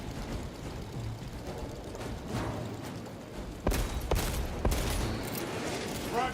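Gunfire and heavy impacts in the video game Space Marine 2, with several sharp loud blasts in the second half over a dense, steady battle din.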